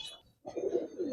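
Giribaz pigeons in a loft in Old Dhaka coo in a low, throaty rolling burst after a brief pause, close and moderately loud, with no talking over it.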